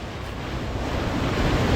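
Ocean waves and swells on open water, heard from a cruising boat heading north into the Chesapeake Bay: a steady, loud broadband wash mixed with wind noise, building slightly and continuous throughout with no voices.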